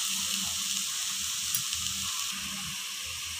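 Fresh grated coconut sizzles in a hot pan with curry leaves while a jackfruit-seed pachadi is cooked, making a continuous bright hiss and crackle of frying, steady and close, with no talking.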